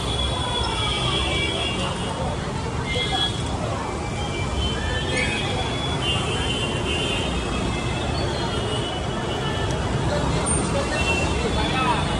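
Steady, dense road traffic noise at crowded Lalbaug with a constant engine rumble and a faint crowd murmur, continuous throughout with no pauses.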